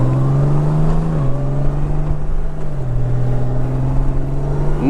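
A 2018 Honda Goldwing motorcycle with DCT automatic transmission riding along, its engine a steady, loud, close drone whose pitch dips and settles as the gearbox shifts smoothly, with wind rush throughout.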